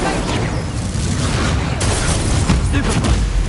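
A Confringo explosive spell cast in Hogwarts Legacy, with a dense rumbling blast and booming impacts layered inside a loud, continuous game mix, followed by a few sharper pops near the end.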